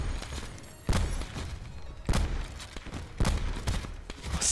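Sniper rifle gunshots in a first-person shooter match, four heavy booming shots spaced about a second apart, each with a sharp crack and a low rumbling tail, loud and close.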